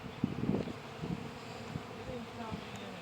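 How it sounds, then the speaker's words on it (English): Honeybees buzz around a hive entrance as they fly in and out carrying pollen, a soft continuous droning with a few closer passes, faint under light outdoor background. "There are bees going in and out of here, and they have pollen."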